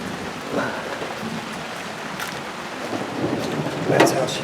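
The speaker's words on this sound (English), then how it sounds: "It's come a monsoon on me." Heavy rain pours down steadily outdoors beside a parked Ford Mustang 5.0, a continuous close hiss of drops spattering the ground and car, with a few louder splashes and light gusts of wind.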